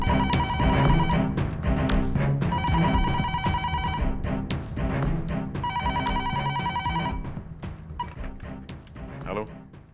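An office telephone rings in loud, repeated bursts of bright electronic trilling, with short gaps between them, and a brief scrape near the end.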